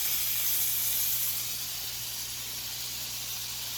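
A tablespoon of butter sizzling in a hot pan before catfish fillets go in, a steady soft hiss that holds evenly throughout with a faint low hum underneath and no talking.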